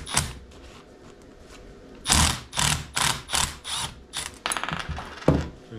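Impact wrench on a nut on a new A/C compressor for a 2000 VW Eurovan, sounding as a quick series of loud, close mechanical bursts and rattling hammering after a quieter start.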